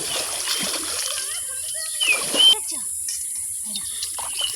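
Water splashing and running while a scrubbed iron wok is rinsed, a steady hiss of flowing water with a couple of louder splashes near the middle and someone talking over it.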